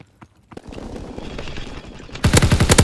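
Call of Duty WW2 gunfire: a brief near shot, then sustained rattling fire building into a loud, rapid burst of close machine-gun shots at the end, no talk.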